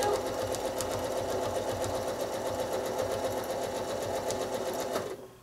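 A sewing machine stitches quilting lines on a pieced Lines and Matrix basket block, running steadily with a fast whirring needle rhythm for about five seconds, close up, then stopping abruptly.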